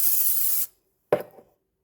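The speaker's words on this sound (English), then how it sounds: "And spray the top." A short burst of cooking spray hisses from an aerosol can and stops, followed by a quick soft clatter, while preparing sourdough bread.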